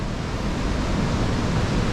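A loud waterfall at Khao Yai roars as a dense, steady rush of broadband noise, constant and close, with no voices.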